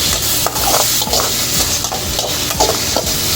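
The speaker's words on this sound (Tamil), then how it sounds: "தக்காளியும் சேர்த்து நல்லா கிண்டி விட்டு இந்த தக்காளி தெரியாத அளவுக்கு வதங்க விடணும்." Tomatoes frying with onions and green chillies for kothu parotta, stirred steadily in the pan: a loud close sizzle broken by rhythmic scraping strokes about every half second, with no talking.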